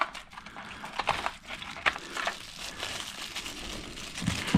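A folded cardboard box holding a Wuben G5 flashlight is opened close up, with soft crinkling, rustling and small crackling handling sounds in quick irregular bursts.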